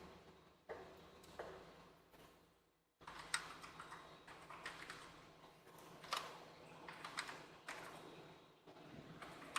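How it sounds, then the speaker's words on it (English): Crisp clicks of typing on a non-mechanical computer keyboard for a new budget PC build, with quiet irregular taps in short bursts and a brief pause, close up but faint over low room noise. "The crispness of that keyboard. I know it's not mechanical, but it don't suck."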